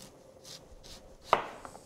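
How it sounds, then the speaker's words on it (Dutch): Knife slicing a pork rack into thick slices on a cutting board: a few soft cutting strokes, then one sharp chop against the board and a lighter tap after it, close and clear, no talking. "Dan gaan we hem in plakken snijden. En dan mooie dikke plakken."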